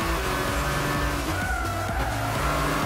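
GT3 race car in Gran Turismo 6 at Le Mans, engine roaring steadily through a nervous S-bend chicane with gear changes and tyre squeal, loud and continuous with no talk.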